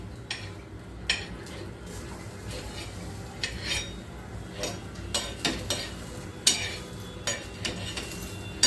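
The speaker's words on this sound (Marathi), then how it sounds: "हे थोडं थोडं तेल टाकायचं आणि भाजायचं" Vegetable slices shallow-frying in a little oil on a low gas flame, with a soft steady sizzle broken by occasional clinks and scrapes of a utensil against the pan.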